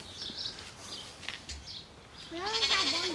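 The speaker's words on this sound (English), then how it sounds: "it's fun to keep that one goat around for entertainment" A single goat named Rowdy, kept on a farm, bleats loudly and close by in a long wavering cry near the end, after a stretch of quiet outdoor ambience with faint chirps.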